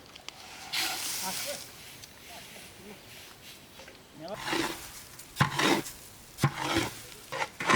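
Whole spices such as cinnamon, cardamom and bay leaves sizzle and crackle in hot ghee for mutton tehari, cooked outdoors by grandfathers for a goat akikah; the frying swells into louder bursts toward the end, with voices talking over it.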